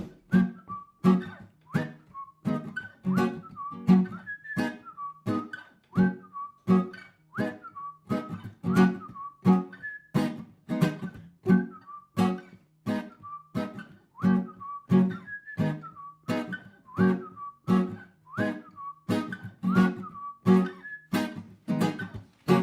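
A person whistles a song's melody alone, in a steady series of clear, close, evenly phrased notes that repeat with a regular rhythm and run unbroken for over twenty seconds.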